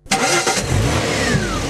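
A car engine, one running on LPG, cranks and catches with a sudden loud burst, then settles into a steady, close, full-bodied running hum for the rest of the short stretch, with no voices.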